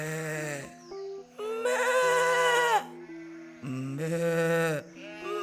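Several drawn-out, wavering goat bleats, loud and close, separated by short pauses, apparently voiced by a storyteller imitating the animal in a folk tale about a goat and a tiger.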